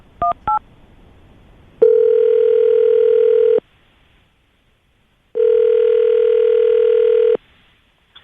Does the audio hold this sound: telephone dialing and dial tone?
yes